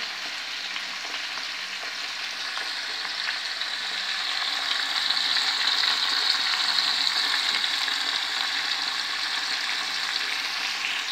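Food frying in a pan for homemade couscous, giving a steady, close hissing sizzle that rises slightly partway through, with faint stirring scrapes and no talk.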